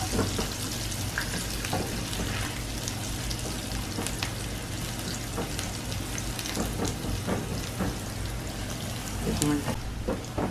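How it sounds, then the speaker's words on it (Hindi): Chopped garlic sizzles steadily in a hot pan as it is sautéed for a bhindi dish, with a constant frying hiss and occasional clinks and stirring sounds throughout. "अब ये लहसुन डाल देंगे, जिसको भी चॉप करके डालना है हमें। थोड़ा सा इसको सौते करके फिर प्याज डालेंगे।"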